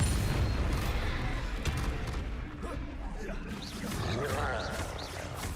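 A heavy, rumbling boom from the Bombarda blasting spell in a Harry Potter video game, sustained and loud, with dense battle noise and bursts filling the scene.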